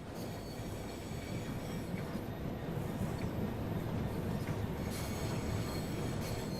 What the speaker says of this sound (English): And look at that, you got the trains up in the hauling yard here too.